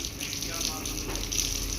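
Water from an electric motor pump gushes steadily in a continuous, fairly close rushing flow that holds at an even level throughout, with no talk.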